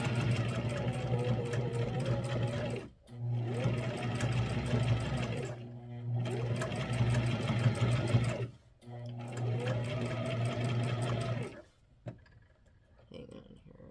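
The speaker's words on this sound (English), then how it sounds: "I'm just going to do a very, very edged stitch right there" A sewing machine runs a long edge stitch along a clothing seam in four sustained, whirring bursts with short pauses between, close and steady, ending with a few light clicks.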